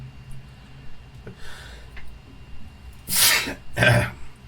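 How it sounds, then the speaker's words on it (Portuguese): A couple of sharp, breathy bursts like a sneeze ring out near the end, following quieter sniffs and breaths in a fairly quiet room. "Então o espirro é ao vivo"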